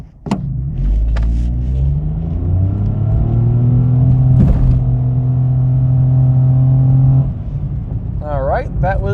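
A car pulls away hard from a standstill up to about 40, the engine note rising steadily through the gears as a loud continuous rumble, with a brief jolt midway and a voice at the very end.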